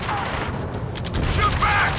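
Rapid gunfire and booming explosions in the Ace Combat 7: Skies Unknown rescue mission, a dense burst of shots and impacts over a rumbling battle bed, with radio-style voices calling out over the fighting.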